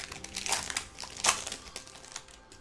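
A YuGiOh GX 2006 Special Edition blister booster pack is torn open, with sharp crinkling and crumpling of the foil wrapper in several quick bursts, close and alone.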